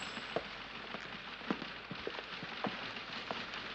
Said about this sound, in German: Hat wieder zu regnen angefangen. Nicht heftig, aber es regnet.